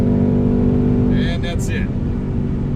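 A C7 Corvette or Mustang GT powers hard through a 60-130 mph roll, a steady loud engine drone inside the cabin that briefly shifts pitch as a gear change hits, with a voice talking over it.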